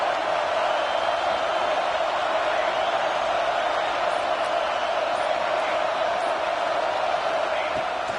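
A stadium crowd roars steadily behind the defense on a fourth-down play in a Nebraska versus Texas A&M football game, a loud, continuous wash of noise without a break.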